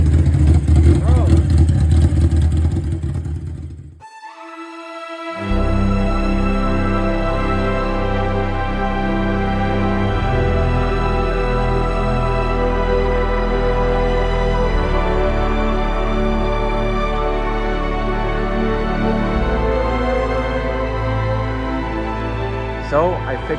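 Yamaha Banshee quad fitted with a Hayabusa engine and a lumpy cam, idling loud and close with a steady choppy lope after a brief pause, while voices talk over it.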